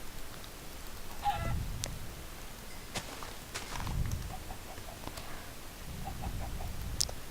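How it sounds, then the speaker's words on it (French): Low, soft clucking from chickens in Minecraft in short bursts, with faint game-like chimes and clicks over a quiet background. "Des poulets, des poulets."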